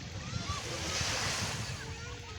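Sea waves at Baseco beach in Manila wash in a steady broadband surf roar, fairly close and continuous, with some wind buffeting the microphone and low rumble underneath.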